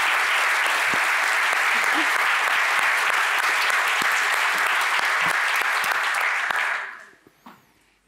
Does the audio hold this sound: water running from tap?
no